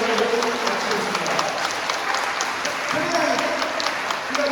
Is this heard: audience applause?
yes